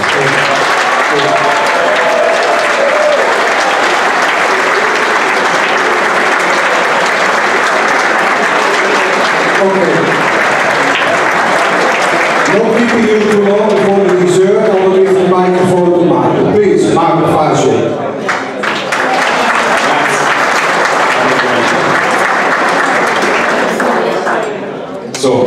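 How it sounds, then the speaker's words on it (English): A crowd at the Spettacolo Sportivo 2017 gala dinner breaks into big, sustained applause that stays dense and loud for about 25 seconds, with cheers and voices mixed in partway through. "I want to have a very big applause for Tio for doing all the work."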